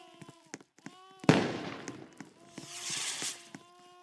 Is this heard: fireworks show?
yes